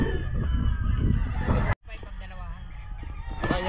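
Chickens at the Bocaue pet market call and cluck close by over a busy, noisy background, with a brief cut partway through.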